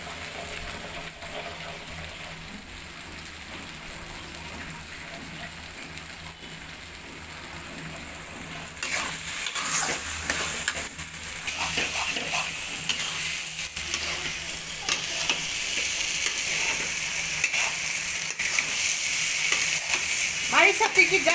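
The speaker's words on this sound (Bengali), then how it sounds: "এখন এটা আমি নাড়াচাড়ার মধ্যে করে ভাজা ভাজা করে নেব" Taro leaves with shrimp are stir-fried in oil in a pan, sizzling steadily up close while a utensil scrapes and stirs repeatedly, the frying growing louder and brighter partway through.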